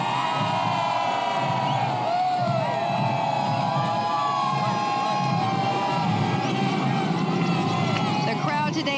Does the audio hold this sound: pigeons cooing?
no